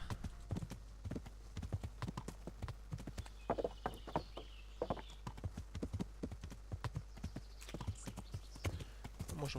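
Horse hooves clip-clopping in the medieval game Kingdom Come: Deliverance, a brisk steady gallop-like rhythm of sharp close hoof strikes running throughout, with no talking.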